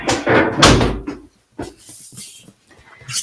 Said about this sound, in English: So now I'm going to shut the door.